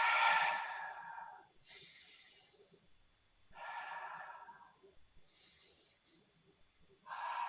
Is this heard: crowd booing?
no